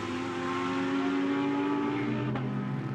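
GT race cars at Spa, with a Ferrari among them, roar past at speed in a Blancpain GT Sports Club race, a loud engine note that drops in pitch near the end as a car brakes, with no talk.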